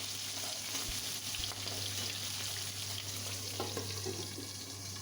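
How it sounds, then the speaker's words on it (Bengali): Fish fries in a covered pan with a steady, close sizzle and crackle, plus a low constant hum and a couple of faint knocks. "মাছটা ঢেকে ভাজতে হবে"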